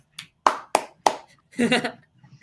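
Four sharp, close hand claps ring out in an uneven rhythm, followed by a brief burst of talking, recorded up close in a quiet baseball podcast setting.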